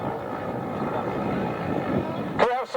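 A Tiger Moth biplane at the Duxford autumn airshow, its engine droning steadily from a distance in a continuous hum, with a voice breaking in near the end.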